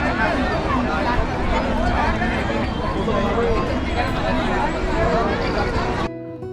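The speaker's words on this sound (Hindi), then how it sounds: "बोटिंग की भीड़" Crowd of people at Naini Lake in Nainital, Uttarakhand, where boating is underway, heard as a steady, loud hubbub of overlapping voices and chatter that cuts off abruptly near the end.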